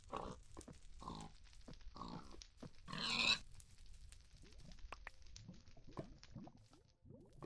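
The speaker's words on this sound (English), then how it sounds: "Oh no, pig!" A pig grunts in the video game Minecraft, several short bursts spaced across the opening seconds, the loudest near the middle, with faint game ambience between.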